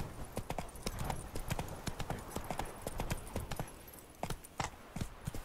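Roach the horse trotting in The Witcher 3: Blood and Wine, with crisp, close, regular hoof clip-clops in an even rhythm, a few louder strikes near the end, no talk.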